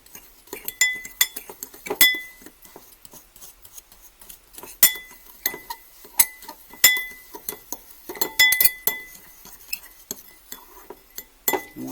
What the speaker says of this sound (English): you're going to take your brown sugar and your cinnamon, and you're going to mix that up very well